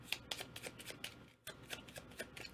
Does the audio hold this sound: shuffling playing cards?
yes